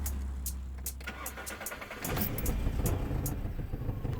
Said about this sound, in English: So go ahead and start the car.